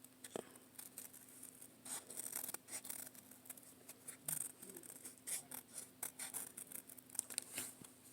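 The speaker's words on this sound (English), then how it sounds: "So that's why I'm cutting it out from this corner and that the paper stays together." Scissors snip and crunch through paper while a paper frog and fly craft piece is cut out, giving a steady run of quiet, close cuts and rustles for several seconds.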